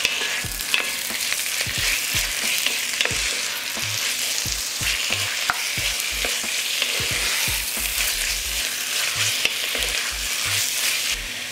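Chopped beef frying in a pan with onion and carrot, a steady broadband sizzle with frequent sharp spatter pops and utensil clicks throughout, loud and close, no talking.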